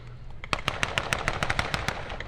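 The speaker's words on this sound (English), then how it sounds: "Now we can see the 29th are laying down, suppressing fire on the German position." Rapid bursts of suppressing gunfire crack out at a WW2 battle reenactment at Tank Fest, sharp loud reports in quick irregular succession over a rumbling outdoor background.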